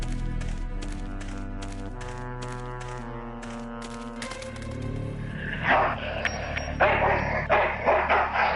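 In the Full Throttle video game, a dog barks over a pulsing musical background, the barks growing rougher and noisier toward the end.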